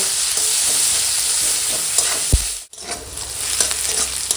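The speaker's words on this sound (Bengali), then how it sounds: "এখন দিয়ে দেবো ওই তেলেই পেঁয়াজ কুচনো, কাঁচা লঙ্কা চেরা একসঙ্গে ভেজে নেব" Chopped onion and slit green chillies fry in hot oil in a Bengali kitchen pan, a close, continuous sizzle with stirring scrapes and a brief thump midway, no talking.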